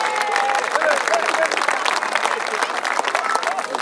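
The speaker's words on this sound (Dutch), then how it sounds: "Proficiat, applaus" Audience at a livestock show applauding the announced champions, steady dense clapping from a crowd throughout, with some voices mixed in.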